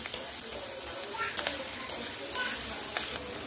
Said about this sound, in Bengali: হ্যাঁ, এটা একটু ভাজা ভাজা হোক